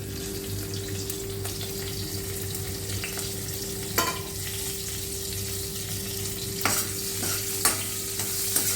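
Sesame seeds, fennel, green chilli and curry leaves frying in hot oil make a continuous close sizzle with scattered sharp pops and crackles, while a low steady hum runs underneath.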